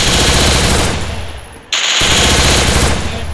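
Loud, rapid automatic gunfire from a gun in a video game, heard as a close, continuous burst. There is a brief dip partway through before the firing resumes at full force.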